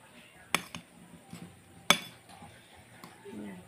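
Metal utensils clink and scrape against a bowl while a vegetable salad dressed with calamansi or lemon is tossed, with two sharp louder clinks among softer scattered taps, close and fairly quiet.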